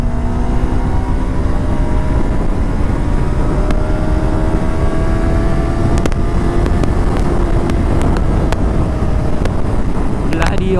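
A Yamaha R3 sport motorcycle on a touring ride, its engine note rising repeatedly as it pulls through the gears, heard under heavy, constant wind buffeting with a few sharp clicks near the end.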